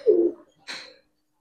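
A Giribaz racing pigeon gives two short, close coos, a low throaty call and then a brighter one, separated by a brief pause and followed by quiet.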